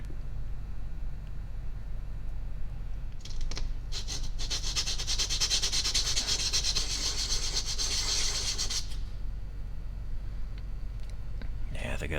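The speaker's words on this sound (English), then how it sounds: "I'd probably sand a little bit of that off" Sanding the rough, jagged part of a mechanical neon sign flasher by hand gives a rapid back-and-forth scratching rasp lasting several seconds in the middle, over a steady low hum.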